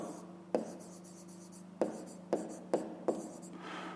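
Pen writing on paper for a fifth-grade maths exercise, quiet scratching with several sharp taps of the pen against the page, close and alone.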